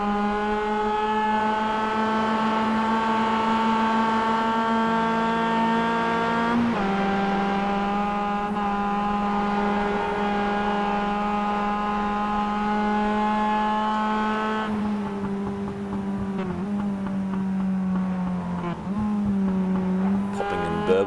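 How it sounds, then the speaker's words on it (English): Recorded on board a roadster race car at Bathurst as it runs down through the Esses, the engine and exhaust give a loud, steady drone that shifts pitch a few times as the car changes speed. "You can just hear the exhaust note there on Seeger's car as he gets down through the S's."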